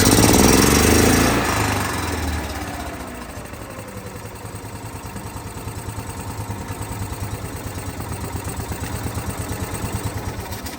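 A gas Club Car DS golf cart engine runs rough, starting with a loud cranking roar that settles into a close, uneven, pulsing chug with a rhythmic knock.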